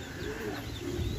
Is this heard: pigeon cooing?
yes